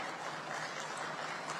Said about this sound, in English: Can we welcome our dignitaries on dais with a good round of applause